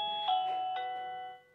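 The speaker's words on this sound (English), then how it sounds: "And then you press the button on the doorbell" A wireless long-range doorbell receiver plays a short electronic ding-dong chime, two clear tonal notes that ring out and fade over about a second and a half in a quiet room.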